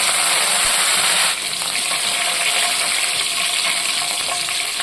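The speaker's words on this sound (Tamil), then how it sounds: "கருவேப்பிலை இலைகளும் எண்ணெயில் நல்லா பொரிஞ்சிருச்சு." Curry leaves frying in hot oil with mustard seeds, fenugreek and shallots for a sardine fish curry, a loud steady sizzle that drops slightly in intensity after a moment and then continues evenly, with no talking.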